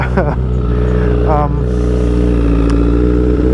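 A 2009 Honda CBR1000RR Fireblade motorcycle with an unresolved fault runs at a loud, steady, humming idle close by, with a voice briefly heard over it.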